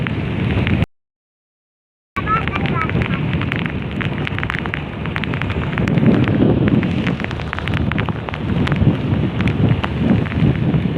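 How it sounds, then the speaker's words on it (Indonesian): Heavy rain at night pours in a dense, continuous roar with patter and spatter, loud and close, briefly cutting out near the start. "Ya keseruan nih hujan."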